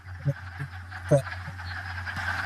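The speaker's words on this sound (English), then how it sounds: "Now there are peculiar quacking sounds emanating from vernal pools." Wood frogs give short quacking croaks at a spring vernal pool, a few scattered calls over a steady low hum, fairly distant and soft.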